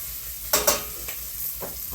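Pork rind braciole rolls browning in a frying pan, a constant low sizzle with a few sharp spatters and stirring scrapes, close and moderately loud, no talking.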